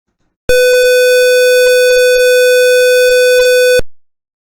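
A buzzer alarm on an electromagnetic radiation sensor board sounds one continuous, loud, steady tone for about three seconds and then cuts off, with no speech.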